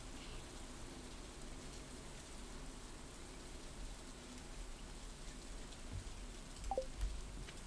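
Rain in the Stardew Valley video game, a steady soft hiss of falling rain, quiet and even throughout with no voices.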